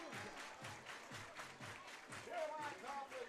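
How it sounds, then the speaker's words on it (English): A sellout crowd at Walker Stadium applauds and cheers during a Portland Pickles minor-league baseball game, rhythmic clapping and crowd noise sitting quietly behind a commentator's voice and swelling slightly near the end. "Pickles fans making some noise on a sellout crowd here at Walker Stadium"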